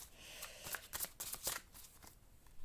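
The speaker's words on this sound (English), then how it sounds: "Let's shuffle again." A tarot card deck being shuffled by hand, a burst of quick riffling flicks and soft card slaps, close and fairly quiet, with no talking.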